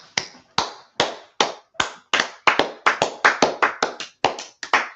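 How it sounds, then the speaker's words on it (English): A class claps together in slow, separate, sharp hand claps, about fifteen crisp, loud strikes with short gaps between them, close by and with no talk over them. "Let's clap it up for class,"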